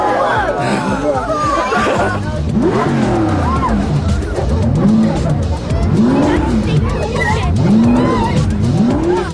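A Pagani Zonda supercar, capable of 220 mph, pulls away with a loud engine note rising and falling in repeated revving sweeps, tyres squealing, while people chatter nearby.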